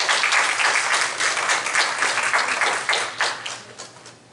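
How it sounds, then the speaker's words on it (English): A seminar audience applauds, a dense burst of clapping that carries on steadily and then thins out and fades near the end. "Let's give her a round of applause."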